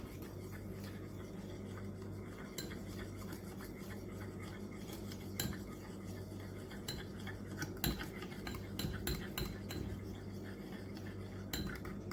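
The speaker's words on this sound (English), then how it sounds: "I am going to stir this into the eggs" Utensil scraping and clinking against a bowl as pudding mixture is stirred into eggs, a steady close, fairly quiet run of light scrapes and taps with a few sharper clicks.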